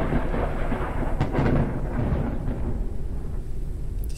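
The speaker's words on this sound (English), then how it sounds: "The storm is over." A thunderstorm in the video game Forever Skies, with a steady loud roar of rain and rumbling thunder that swells mid-way, then eases slightly toward the end.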